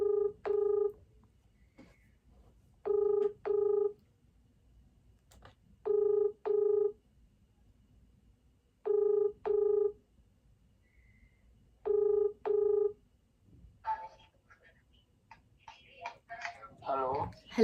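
Telephone dialing tones from a call being placed, several short paired bursts of keypad tones repeating at a regular rhythm with quiet gaps between, followed by faint rustling and a brief voice at the end.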